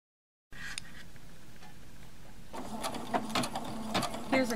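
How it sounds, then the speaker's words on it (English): Home sewing machine stitching a blanket stitch with invisible thread to attach handkerchiefs to quilt blocks; a soft, steady mechanical whir runs close by, growing busier and louder with rhythmic needle ticks partway through. "Here's a close-up of my machine sewing the blanket stitch."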